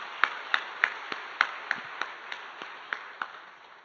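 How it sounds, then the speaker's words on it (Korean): A church congregation claps in slow unison, about a dozen evenly spaced, sharp claps in a reverberant hall, with a faint steady tone running beneath. "한번 영광의 박수 돌리겠습니다."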